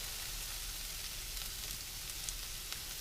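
Onions and a chili fry in a pan with leftover fat, giving a continuous soft, hissing sizzle with occasional faint crackles, steady and close.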